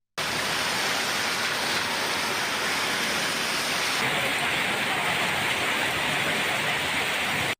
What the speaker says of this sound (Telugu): ఈదురు గాలులు ఉరుములు మెరుపులతో కూడిన భారీ వర్షం కురిసింది